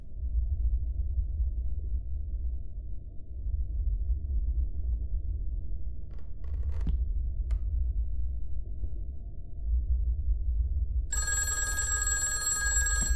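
In the horror video game Christmas Nightmare, a low rumbling ambience with a couple of faint knocks runs for several seconds before a telephone bell begins ringing loudly and steadily near the end.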